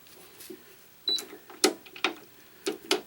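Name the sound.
string tensioner pulling tension on a cross string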